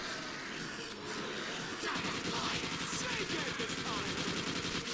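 Sustained rapid AK-74U automatic fire in a Call of Duty zombies game mode, a loud dense burst of shots running through the second half over a busy game soundscape.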